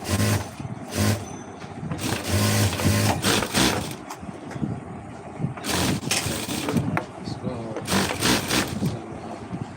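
Sewing machine stitching a white chemise during a live tailoring session, with bursts of motor whir and stitching rattle that start and stop several times, close and fairly loud, and a voice speaking around them.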